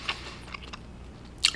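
Crunchy kimchi is chewed close to the mic during a mukbang meal with boiled pork, giving a few faint, scattered crunches and ending in one sharper, louder bite.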